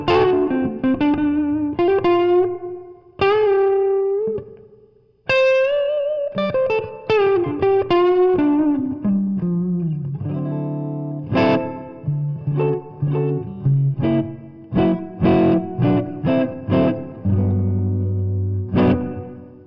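An electric guitar plays through a Fender Tre-Verb pedal with the reverb on its 65 setting, picked notes and chords ringing with a lush spring-like tail and some grit, played alone and with no talk.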